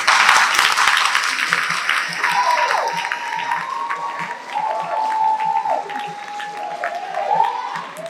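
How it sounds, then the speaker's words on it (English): Audience applause at the launch of a women and youth agribusiness entrepreneurship summit and expo, steady clapping that gradually softens, with a person talking over it and a thin tonal sound rising and falling midway. "let's keep clapping"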